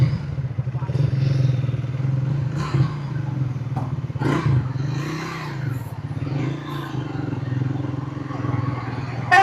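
A Triumph Thruxton 400 motorcycle idling nearby, a steady low throbbing engine note with a few light blips of throttle and some faint clatter, loud and continuous throughout.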